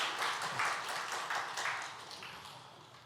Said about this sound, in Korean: 다시 한번 박수 보내주셔요